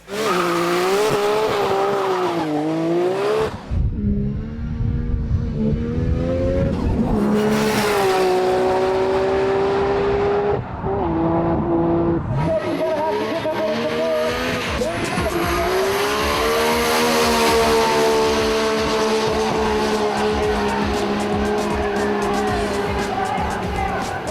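A Nissan GT-R race car with an RB26 engine screams at high revs, rising and dropping through gear changes, loud and continuous with tire squeal, and no speech.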